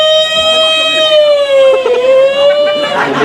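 An ambulance siren wails loudly and close by, its steady sweeping tone holding throughout with a few faint background noises.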